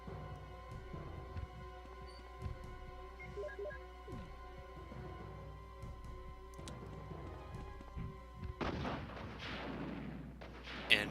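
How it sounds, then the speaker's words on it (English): Rocket launcher fired at the Tyrant in the Resident Evil video game, a faint game scene with steady tonal music and small thuds before a loud blast and rushing burst near the end. "now we have to grab the rocket launcher"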